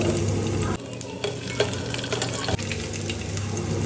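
Crushed garlic frying in tempering oil with chillies for ridge gourd dal crackles steadily up close, broken by a few sharp clicks and scrapes of a spoon stirring in the pan.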